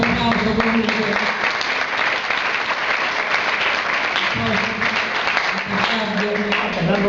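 A crowd applauds the second-place rider at a regional cross-country mountain bike championship awards ceremony, with steady clapping throughout and voices faintly audible in the mix.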